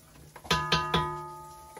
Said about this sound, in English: Old time school bell.